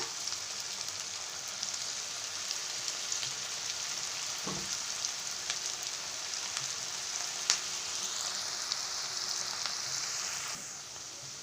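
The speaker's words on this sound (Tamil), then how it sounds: "பக்கோடா போட்டாச்சுங்க, கிளறி விட்டுக்கலாம்." Oats pakoda frying in hot oil, a soft, steady sizzle that hisses evenly throughout with faint crackles and an occasional stir.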